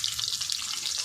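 Sliced onions sizzle and fry in a hot pan, a dense, steady hiss heard up close with no voices, alone for about a second.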